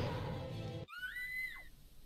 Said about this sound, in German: Da war ein Schrei.